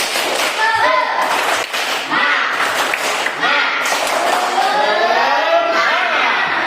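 A classroom of students claps together in quick rhythmic bursts for a class cheer, loud and close, mixed with shouting voices throughout.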